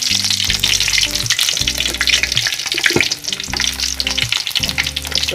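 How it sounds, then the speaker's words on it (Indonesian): Shallots sautéing in hot oil for Medan-style anchovy sambal give a loud, continuous close sizzle with stirring scrapes, over a musical backing. "tumis bawang merah"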